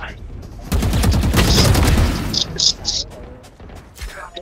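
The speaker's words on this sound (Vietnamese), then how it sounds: "Hai thằng bắn mình." Rapid bursts of gunfire from a video game deathmatch, loud and close, with a dense volley early on and scattered sharp shots trailing off, while a voice talks over it.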